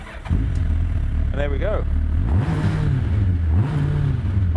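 A Megabusa car fitted with a motorbike engine fires up on the start button and idles loudly nearby, then revs in several rising sweeps, while someone talks briefly over it.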